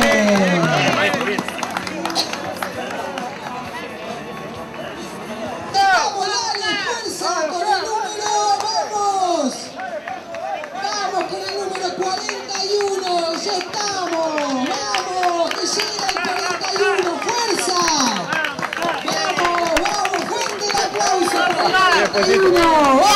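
Spectators at a running race in Santa Rosa, Cañuelas, clap steadily as a runner reaches the finish, a brisk, continuous patter of hands mixed with shouting, cheering voices and a nearby announcer talking loudly throughout.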